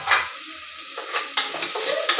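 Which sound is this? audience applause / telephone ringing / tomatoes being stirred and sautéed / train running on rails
tomatoes being stirred and sautéed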